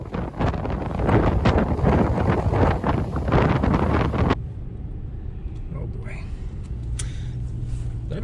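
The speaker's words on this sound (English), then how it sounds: "I mentioned it was gonna be windy today." Strong wind buffets the microphone out on the water during a fishing trip with a kayak, roaring loudly for about four seconds before dropping to a softer, steady breeze with faint rustling.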